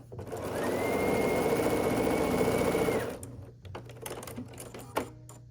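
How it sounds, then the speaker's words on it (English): A sewing machine stitches a quarter-inch seam along the side of a small Sawtooth Star quilt block, running steadily and close for about three seconds, then stopping into quieter handling noises with a brief click. "And then we're just gonna sew along this side with a 1/4 inch seam allowance."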